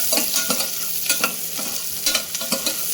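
Green chillies frying in hot oil for a millet khichdi, a steady close crackling sizzle broken by repeated scraping stirs, with no voices.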